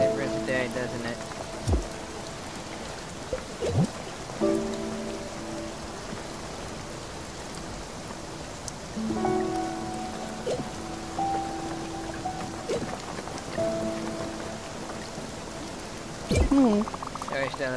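Steady in-game rain from Spiritfarer patters softly throughout, a light continuous hiss with a few sharp effect sounds and tonal game chimes layered over it, no one speaking during the stretch.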